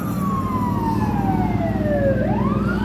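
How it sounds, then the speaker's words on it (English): Wailing emergency sirens from police and fire vehicles at a car accident sweep down and back up in pitch over steady traffic rumble, loud and continuous, with a second siren layered in. "I hear other sirens."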